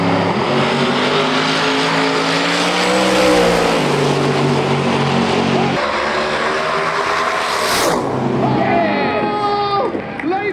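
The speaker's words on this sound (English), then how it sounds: "They both have tyre shake and tyre spin, and they both actually light it up at the same time." Drag race cars in Top Speed Street Eliminator launch side by side with tyre spin and tyre shake, a loud, sustained engine roar with screeching tyres, followed by the engines fading as the cars pull away. A commentator talks over it.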